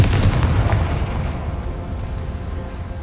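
Confringo fire-blast spell in Hogwarts Legacy, a loud booming explosion with a rumbling roar that slowly fades and settles over three seconds.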